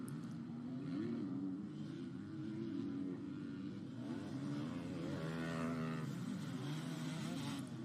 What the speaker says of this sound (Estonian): Siin on kuulda Olli Jaakonsaari 2-taktilist kuskil skriimimas